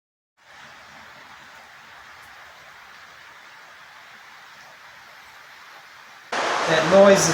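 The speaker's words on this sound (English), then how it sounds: "That noise is the rain." Steady broadband hiss of hard rain falling on a yacht under repair, continuous and even for several seconds, before a louder burst of sound cuts in at the end.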